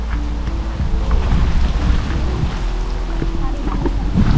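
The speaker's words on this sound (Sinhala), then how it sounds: "එකම අවුල මේ වැස්ස තමයි. වහිනවා." Rain patters steadily in a dense, close wash of small irregular taps, with a low rumbling hum underneath throughout, at St Mary's Lighthouse, Newcastle, England.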